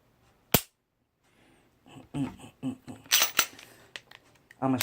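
Trigger pull and reset of a Smith & Wesson M&P 9mm pistol with a long, creaky trigger: one sharp close click, then a quieter cluster of small mechanical clicks and rattles.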